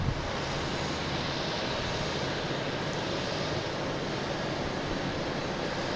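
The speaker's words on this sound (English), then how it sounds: "We have a Lufthansa 747-400. That's going to be heading out of here." A Lufthansa Boeing 747-400 departing Boston Logan airport, a broad, steady jet roar heard from a distance and sustained throughout without speech.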